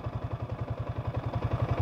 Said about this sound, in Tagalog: Tapos ito yung tunog ng makina niya